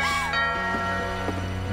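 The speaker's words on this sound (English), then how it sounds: "Doorbell." A doorbell chime rings in the video game What Remains of Edith Finch, a short, clear, ringing tone that sustains and fades over quiet game ambience.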